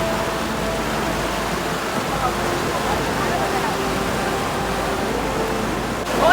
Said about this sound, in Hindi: बहुत ज़्यादा बारिश हो रही है और पानी का फ्लो बहुत बढ़ गया है